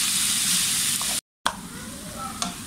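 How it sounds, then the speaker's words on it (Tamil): Chicken mince and onions sizzle and fry in a pan as they are stirred, a steady close hiss broken by a brief silence, then stirring scrapes and a small knock return over the frying. "இதெல்லாம் நல்லா மிக்ஸ் ஆகும் வரைக்கும் கிளறிக்கோங்க"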